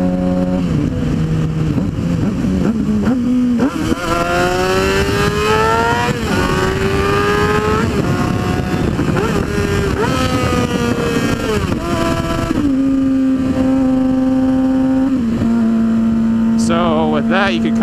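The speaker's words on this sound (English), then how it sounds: "Like a fast, like rapid 6 gears downshift." A motorcycle engine revs hard through a rapid six-gear downshift with rev matching. The loud, sustained engine note jumps up in pitch in quick steps with each gear change.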